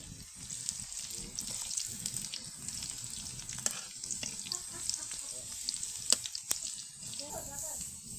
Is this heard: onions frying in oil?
yes